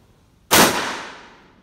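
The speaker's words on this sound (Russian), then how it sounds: "сейчас стрельну в закрытом помещении и скажу вам свои ощущения" A single loud gunshot from a Winchester Rossi 92 lever-action carbine fired in an enclosed room, a sharp crack followed by a decaying indoor echo over about a second.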